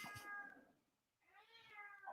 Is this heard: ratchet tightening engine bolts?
no